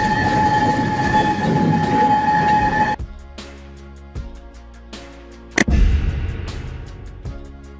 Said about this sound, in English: Funicular. A type of cable railway that operates on steep slopes, using two cars connected by a cable to counterbalance each other.